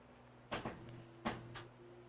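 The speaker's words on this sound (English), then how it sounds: "Let me close my door." A room door is pushed shut indoors, giving a couple of quick thuds and latch clicks, then a second bump, close by against a low hum with no talk.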